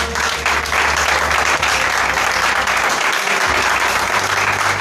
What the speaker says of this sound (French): Est-ce que la jeunesse peut acclamer Jésus ce matin?